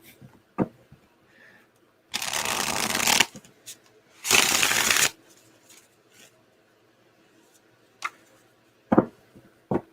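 Tarot cards are riffle-shuffled in two dense, rustling bursts of a second or so each, separated by a pause, followed by scattered soft taps and clicks of the cards being handled nearby.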